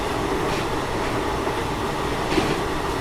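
A passenger special train bound for Prayagraj runs along the track at around 100 km/h on a parallel-line section, giving a steady, loud, continuous rumble and rush of wheel and body noise with no break.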